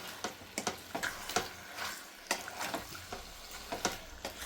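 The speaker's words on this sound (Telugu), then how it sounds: "పసుపు మొత్తం ఒకసారి మిక్స్ అయ్యే విధంగా కలిపేసుకుందాం" A spoon stirs curry with turmeric in a pan, making a series of sharp scraping and tapping strokes over a faint sizzle. The strokes come at an irregular pace, close by, with no talking.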